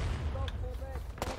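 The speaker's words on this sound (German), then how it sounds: "Doch, da hinten wird geschossen." Distant gunfire in the Civil War video game War of Rights, dull faint pops rolling under a steady low rumble of battlefield ambience, with faint voices in the background.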